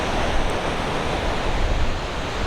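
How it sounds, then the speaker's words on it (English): Ocean surf breaks on a San Diego beach in a steady, close, broadband wash, with some wind noise over it and no voices. "there's definitely some really fun longboarding waves coming through"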